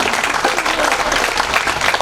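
An audience at an Arya Samaj religious discourse breaks into steady, dense applause, a continuous wash of clapping throughout.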